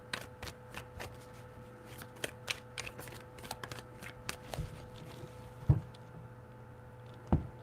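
Tarot cards are shuffled by hand in a quiet room: a rapid, soft run of papery riffles and flicks with a couple of sharper taps near the end, faint and with no voice.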